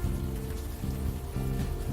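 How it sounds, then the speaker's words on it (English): Steady, close rain falls on a city street in the game Unavowed, a dense even hiss that keeps going for the whole stretch, with low rumbling swells underneath. "You're walking the streets in the rain"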